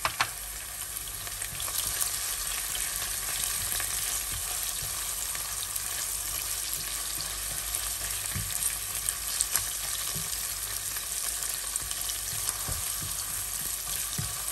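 Onion fries lightly in a pan alongside whole cumin and crushed chili, a continuous close sizzle with occasional soft pops and stirring scrapes and no talk.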